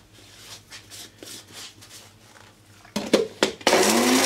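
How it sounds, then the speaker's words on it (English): A kitchen blender grinds carbonized mushrooms into fine powder, switching on near the end with a loud, steady roar after a few quiet handling clicks and thumps. "grind them up into a very fine powder, and of course we can do that in a kitchen blender"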